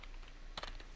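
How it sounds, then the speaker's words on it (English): Rapid, uneven keystrokes on a computer keyboard, a flurry of clicks clustered together, close and fairly quiet, with no voices. "I'm just spamming my keyboard right now"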